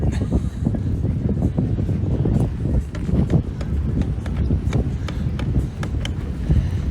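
Gusty seaside wind at El Campello, Spain, buffeting the microphone as a steady loud rumble with brief gust peaks, alone without speech.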